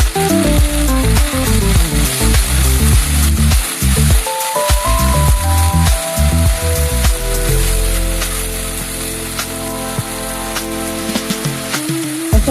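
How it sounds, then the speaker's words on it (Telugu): Ginger garlic paste frying in hot oil gives a steady, close sizzle with stirring scrapes. Music plays over it throughout. "ఇప్పుడు అల్లం వెల్లుల్లి పేస్ట్ అందులో వేయండి. అవి కూడా రా స్మెల్ పోయే వరకు ఫ్రై చేయండి."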